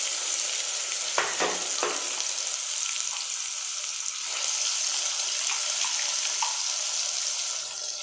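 Fenugreek and mustard seeds crackle and pop in hot oil with a steady, fairly soft sizzle and scattered small snaps throughout, with no talking.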